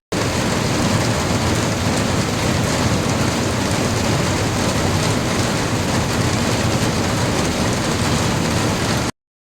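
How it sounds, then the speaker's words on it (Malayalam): Steady rain drums on metal roof sheets at the front of a house, a dense, even patter that continues loudly and unbroken, with no voices. "കുറച്ച് ഷീറ്റ് ഇറക്കിയിട്ടുണ്ട് ഈ മുൻവശത്ത്. അതിലേക്ക് മഴത്തുള്ളികൾ പതിക്കുന്ന സൗണ്ടാണിത്."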